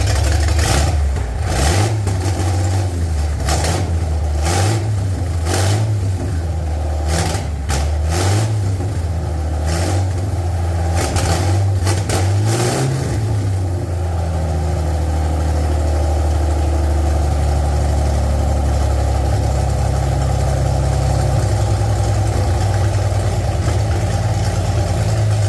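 A 1928 Oldsmobile race car engine runs alone and close, a deep, uneven idle with repeated throttle blips swelling and fading, then settling into a steadier, slightly high idle.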